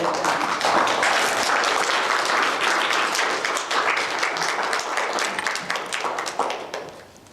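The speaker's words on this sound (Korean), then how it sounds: "박수로 우리 환영할까요?" A church congregation claps to welcome a speaker, a full, even wave of applause that holds for several seconds and then fades out near the end.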